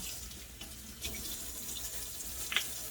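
Water runs steadily from a tap to wet a stainless steel pan, a soft continuous hiss with a few faint splashes and clinks, close and at low volume.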